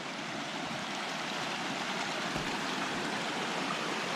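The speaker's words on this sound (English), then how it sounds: "Another water feature here." Mountain stream water rushing steadily along a forest trail in Wenatchee National Forest, Washington, a close, constant broadband wash with no breaks and no voices.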